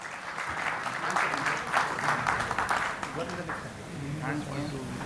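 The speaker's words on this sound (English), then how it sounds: "can we please clap for him" Seminar audience at a session on public-private partnerships in seed research applauds a panelist being introduced, steady moderate clapping while a presenter keeps talking over it.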